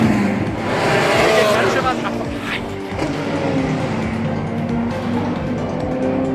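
Race cars lapping the Hockenheimring circuit make a loud, continuous engine roar with passing swells, mixed with crowd and track noise while someone talks over it.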